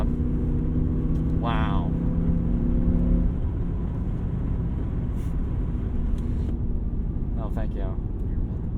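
A 2008 BMW E60 M5's V10 drones low and steady from inside the cabin while cruising, a constant rumbling hum with road noise, as an occupant briefly exclaims and speaks over it.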